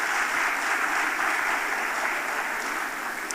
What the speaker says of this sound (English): I think you should clap for yourselves.